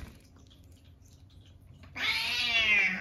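A frightened cat shies away from a durian fruit and lets out one loud, drawn-out meow after a quiet pause.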